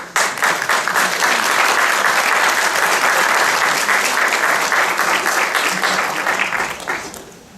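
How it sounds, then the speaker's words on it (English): Graduation audience at a fall mathematics commencement bursts into sustained, loud applause from a large crowd, steady for about seven seconds before tapering off at the end. "let's give them a round of applause"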